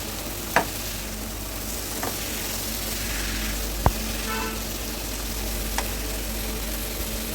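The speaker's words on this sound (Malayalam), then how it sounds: "കോളിഫ്ലവർ ചേർത്ത് കൊടുത്തതിന് ശേഷം മിക്സ് ചെയ്ത് കൊടുക്കാം." Cauliflower sizzling in a curry pan with a soft, steady fry, broken by a few clear knocks and scrapes of a spoon against the pan as it is mixed.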